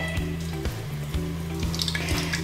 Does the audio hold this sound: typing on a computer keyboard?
no